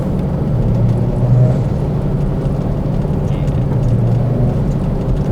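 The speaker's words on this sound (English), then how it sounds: "Love the way the car sounds." A Mazda FD RX7's engine drones steadily throughout at a constant, fairly loud level, with a low rumbling hum and no talking.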